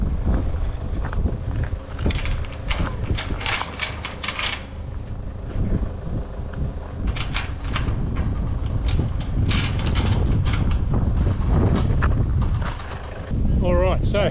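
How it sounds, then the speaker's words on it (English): Gusty wind buffets the microphone outdoors at an airfield, giving loud, uneven rumbling and crackling bursts with brief lulls throughout. "The probably hear on the microphone the wind's picked up."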